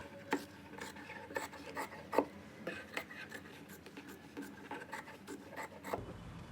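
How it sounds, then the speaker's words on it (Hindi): Scissors cut kurti fabric from the inside near a boat neck, producing a series of close, irregular snips and rasps, quiet and without speech. "अब हम अंदर की साइड से कपड़े को कट कर लेंगे"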